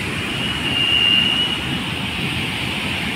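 Monsoon floodwater spills over a weir on the Bhima river, a continuous dense roar close by, steady in level apart from a slight swell, with no talking.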